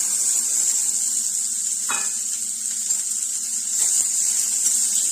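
Green peas sauté in a pan with red chili powder, turmeric and salt, giving a steady bright sizzle throughout with a couple of soft scraping stirs, no voices.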